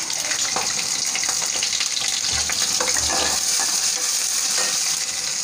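Halved garlic cloves and finely chopped onion sizzling in hot oil while cooking a filling for matar kachori, a loud, steady, hissing fry that continues without a break.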